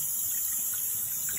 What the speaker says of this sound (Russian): Сейчас течет тепленькое, кипяток польется.